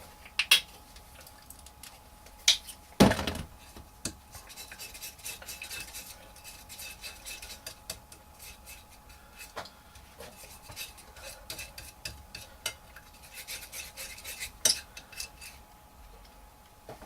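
Paint is mixed with yellow and white being worked in, giving soft, close scraping and clicking of a brush or knife against a palette, with a few louder knocks scattered through an otherwise quiet stretch.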